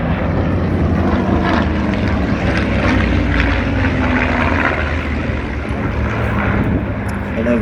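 A Focke-Wulf 190 replica and two original Spitfire warbirds roar overhead at an air show, a loud sustained propeller-engine drone with a slight rising whine.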